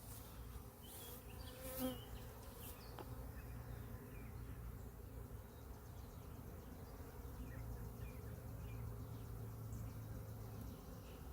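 Honey bees buzz in a queen cell builder hive, a dense, continuous drone close by with a steady low hum and occasional louder passes, and no talk.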